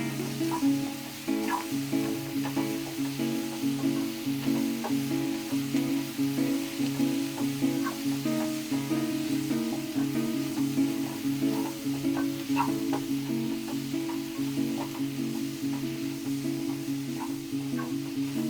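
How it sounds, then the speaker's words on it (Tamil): Chopped tomatoes sauté in a pan on a stove over medium heat while paneer butter masala is cooked, a steady close sizzle and crackle running evenly throughout with faint scattered pops. "இப்போ இது தக்காளி போட்டு ஒரு 2 minutes நல்லா வதங்கணும்."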